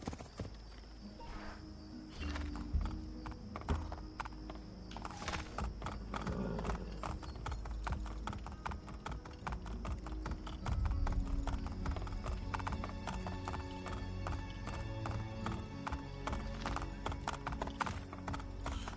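Steady clip-clop of horse hooves trotting at an even pace in Assassin's Creed Brotherhood, with a brief whinny early on and faint background ambience throughout.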